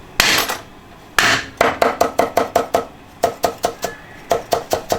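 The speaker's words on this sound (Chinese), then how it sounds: "我们切点姜" Knife chopping ginger on a cutting board, a few single heavy strokes followed by quick rhythmic runs of sharp, close knocks in bursts, loud and dry with no talk.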